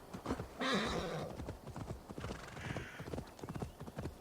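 Horse hooves clip-clop at a trot in Assassin's Creed Valhalla, a quiet steady rhythm of hoofbeats with a brief neigh near the start.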